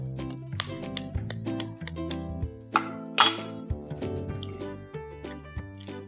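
An egg cracked and dropped into a bowl of mashed rice for rice vada, giving a few sharp clinks of shell against the bowl edge amid soft wet squelching and dish sounds, close and fairly quiet.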